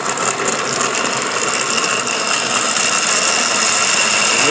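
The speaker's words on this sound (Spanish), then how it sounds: "Let's blend these fruits over here." A blender runs steadily, grinding fruit into juice for a kitchen cooking session. The motor whirs loudly and continuously without a break, with a gritty mechanical texture, and nobody speaks over it.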